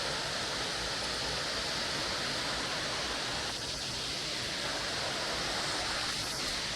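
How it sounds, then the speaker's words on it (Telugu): Waterfall in a forest at Mitte, a spot with seven falls together, pouring in a steady broadband roar that stays loud and unbroken throughout with no voices. "ఈ వాటర్ ఫాల్స్ మీకోసం చూపిస్తున్నాం"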